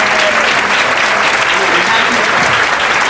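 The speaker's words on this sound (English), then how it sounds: "Give yourselves a round of applause." A crowd at a cancer survivors day celebration claps in loud, continuous applause, a thick wash of sound that holds steady from start to finish.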